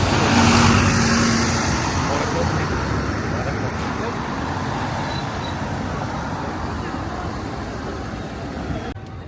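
Heavy traffic streams across a busy London bridge as a Big Bus tour bus trails behind, a loud continuous roar of engines that eases slightly over time, with people talking over it.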